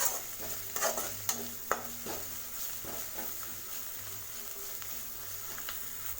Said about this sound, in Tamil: கொத்தமல்லி தழையை புதினா தழையை போட்டு நான் நல்லா வதக்கி விட்டுட்டேன்.